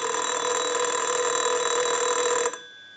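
A Microtel 202 telephone's bell, rung from a test analyzer, rings loudly and steadily for about two and a half seconds, then stops abruptly, leaving quiet.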